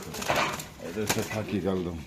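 Pigeons coo softly from cages at a Bangladeshi bird market, low burbling calls mostly buried under close, steady male conversation.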